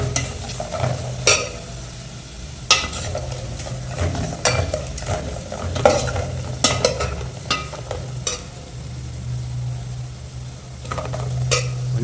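Green chilies and onion fry in oil in a pan for a bitter gourd gravy under a constant close sizzle. A spoon scrapes and clacks against the pan in repeated sharp strokes as the mix is stirred, with no speech.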